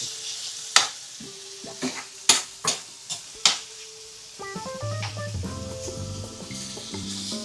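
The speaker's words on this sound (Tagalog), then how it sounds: "same pan na din tayo magigisa" Food being sautéed in a frying pan, with a soft sizzle under several sharp scraping and clanking strokes of a utensil against the pan, then music rising in the background.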